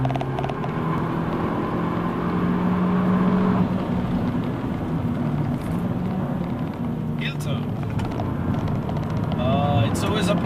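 Abarth 695 Biposto with manual gearbox driven on open roads, a steady engine drone and road rumble throughout, with a voice talking over it.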